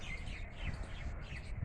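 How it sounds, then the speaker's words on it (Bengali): Parrots chirp in a large, roughly 200-year-old village tree, with faint, distant, repeated high calls over quiet outdoor ambience. "অনেক টিয়া পাখি এই গাছের মধ্যে থাকে।"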